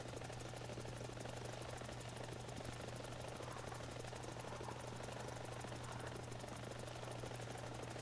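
A Mi-28 Havoc attack helicopter in the War Thunder game churns with a steady rotor thrum and constant turbine whine, droning evenly and continuously with no voices.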